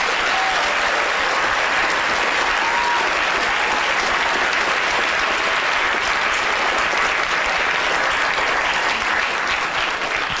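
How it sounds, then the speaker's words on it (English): Dense, sustained applause from a large theatre audience in Cheltenham, loud and steady throughout without letting up. "A big round of applause, everyone."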